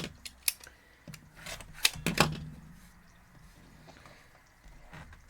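Scissors trimming quilt block fabric, giving a few sharp snips close up that are separated by quiet pauses, with faint handling noise between the cuts.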